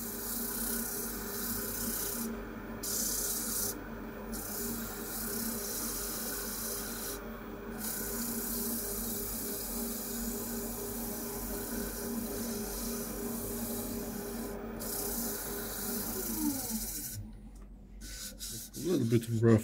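A Scotch-Brite stainless-steel pad, roughly 400 or 600 grit, rubs lightly and steadily across a wooden surface being aged to a natural patina. The soft continuous scrubbing holds an even level, with a few clattering handling noises at the end.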